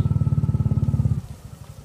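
A motorcycle idles close by at a clubhouse, its engine firing in a fast, steady thump that runs loud for a little over a second, then cuts to a low fading rumble.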